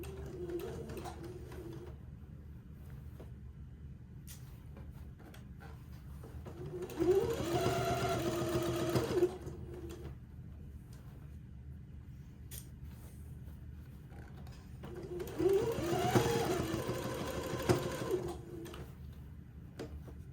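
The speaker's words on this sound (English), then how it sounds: "this will take me a minute to finish doing this stitch in the ditch" A sewing machine stitching in the ditch on bloomers, running in two bursts of a few seconds each with quiet pauses between them and faint room noise underneath, no talking.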